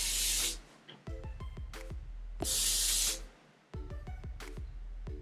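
Two bursts of fine misty spray of a highlighting face mist hiss out of a pump bottle, each followed by a few light plastic clicks and taps.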